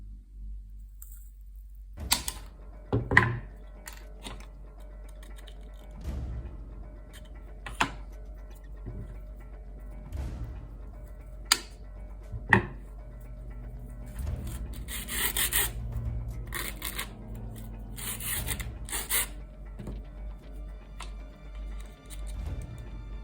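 Cutting out a small part for a homemade Assassin's Creed hidden blade, with scattered sharp taps and knocks followed by a stretch of rough rubbing and rasping strokes, close and fairly quiet.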